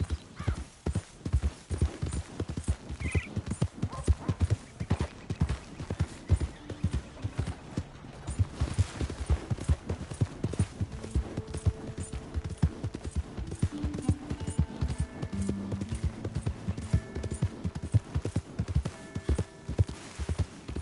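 Horse hooves clip-clop in a steady, close, even rhythm throughout in the video game Red Dead Redemption 2, with a faint whinny and occasional game sounds in the background.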